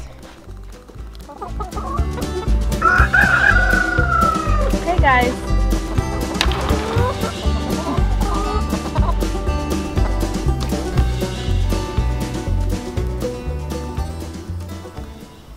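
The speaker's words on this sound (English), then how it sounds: "I am going to give them to the chickens." Chickens cluck and squawk continuously nearby, with a few rising calls, while a person talks over the flock.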